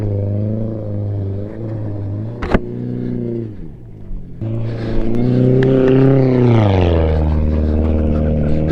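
A truck drifting with a thumb throttle revs hard and close. The engine drone holds, dips, then surges to a higher, louder pitch before falling away, with no talk over it.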